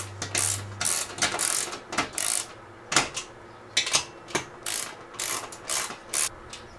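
A socket ratchet clicks in repeated bursts while 13 mm bolts are tightened on a metal heat press cart frame, with sharp, close ratcheting strokes separated by short pauses.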